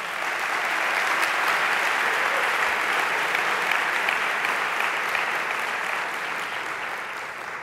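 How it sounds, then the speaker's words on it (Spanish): Sustained, loud applause from a conference audience at a marketing event's closing session in Barcelona, a dense steady wash of clapping lasting throughout and easing slightly near the end. "Vamos a darles un fuerte aplauso."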